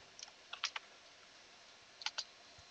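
Quiet keystrokes come from a computer keyboard as a command is entered in an Ubuntu 17.04 terminal, forming two small clusters of crisp clicks with a pause between them.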